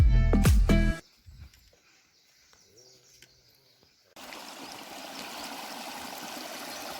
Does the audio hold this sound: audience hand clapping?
no